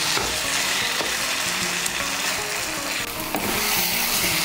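Taro leaves cook in a pan over medium heat for a vegetarian kochu shak, making a loud, steady sizzle with a few stirring scrapes, close and without talk.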